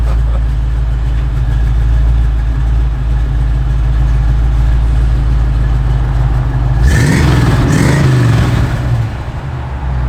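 A 1952 Chevrolet 3100 pickup truck engine running close by with a loud, steady low rumble at idle, then a brief rev about two-thirds through before it settles again.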